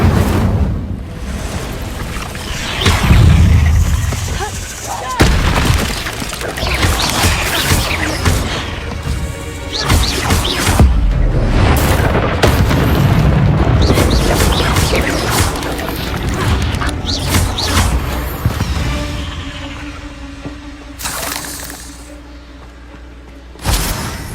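Incendio fire spells blast repeatedly in Hogwarts Legacy, loud, dense fiery bursts and crashing impacts layered over busy game sound throughout.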